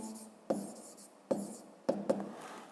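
Handwriting numbers with a pen on paper, a few short scratchy strokes with soft taps, close and quiet, separated by near silence.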